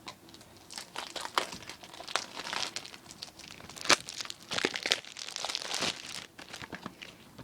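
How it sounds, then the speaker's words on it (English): Plastic wrap is torn and peeled off a boxed PC game, Medal of Honor Warfighter, with close, irregular crinkling and tearing bursts throughout and no talking. "Got the plastic off."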